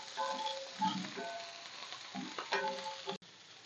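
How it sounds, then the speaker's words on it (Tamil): Garlic sautéing in oil in a pan, giving a short, fairly close sizzle with light stirring scrapes that briefly cut off near the end. "இந்த ஸ்டேஜில் வந்து பூண்டு சேர்த்துக்கோங்க இது கொஞ்சம் வதங்கட்டும்"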